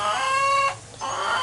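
A rooster crows with sustained, clear tonal calls that break off briefly and resume, loud and close, mixed with hen-like clucking on a homestead; no one speaks.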